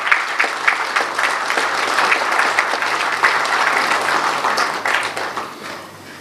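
An audience at the grand opening ceremony of a lovebird society in Karachi breaks into sustained applause as Israr Khan sahib comes on stage. Dense, loud clapping from many people holds steady, then thins and fades near the end.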